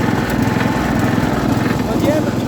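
Close and continuous, the small tractor's engine hums and buzzes evenly as it hauls a trailer along a bumpy track, with a voice mixed in over the running motor.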